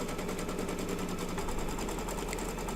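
An embroidery machine stitches a placement line on an in-the-hoop clover mug rug, giving a dense, steady, rapid mechanical rattle that runs at even loudness throughout.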